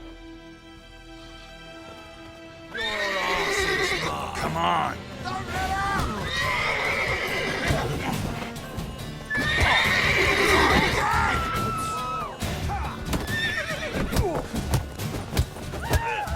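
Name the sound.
horses neighing in a video game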